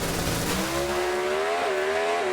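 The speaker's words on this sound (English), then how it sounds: "Race car drives to the left when he left the clutch out." A Pro Stock drag racing car launches hard with a loud roaring engine whose pitch climbs and then shifts as it pulls to the left off the clutch at the Las Vegas Nationals.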